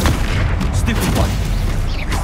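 Stupefy spell cast in Hogwarts Legacy, a dense burst of magical combat impacts and booms that runs continuously and loudly through the moment, mixed with other spell effects.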